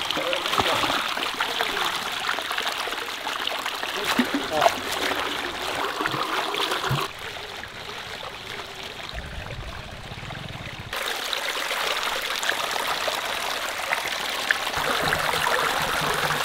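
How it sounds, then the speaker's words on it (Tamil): Elephant foot yam being washed in water, with running, trickling and splashing water throughout and a quieter stretch in the middle. "தண்ணியில் போட்டு வாஷ் பண்ணி எடுத்துக்கலாம்."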